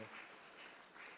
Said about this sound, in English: Shall we give them a round of applause as they exchange their MoUs?